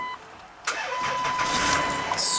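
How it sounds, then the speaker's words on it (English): A Chrysler van engine cranks briefly and then catches on a jump starter, settling into a steady running rumble close by with no talking. "Let's fire this thing up and let it charge a little bit."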